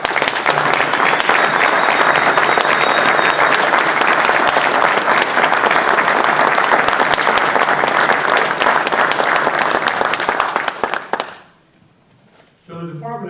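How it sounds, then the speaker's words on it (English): A large crowd at a Veterans Day ceremony in Belleville, Illinois applauds World War II veterans in a loud, sustained, dense wave of clapping for about eleven seconds, then it stops abruptly and a voice begins speaking. "Have a round of applause for our World War II veterans."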